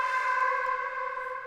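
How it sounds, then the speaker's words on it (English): A sustained Omnisphere synthesizer lead tone holds a bright, buzzy pitch with rich harmonics, steady and even throughout, with no voices. "Now I got this lead sound that I picked from Omnisphere."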